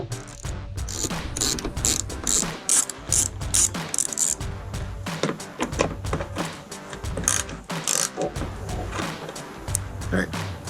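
Hand-turned socket ratchet with an extension working grille bolts loose on a 2014-2015 Chevrolet Silverado 1500, its quick clicking bursts repeating close up amid clunks and handling noise, with a voice speaking at times.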